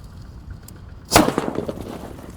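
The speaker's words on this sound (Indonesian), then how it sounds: "sore ini kita menyalakan mercon buntelan kertas petir guys" A paper-wrapped firecracker goes off: a single sharp bang bursts out after a quiet moment, followed by a brief crackling scatter of debris.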